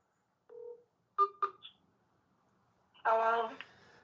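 On a radio show, a phone dials a call with a few short, separate keypad tones in a quiet room, followed by a brief burst of voice.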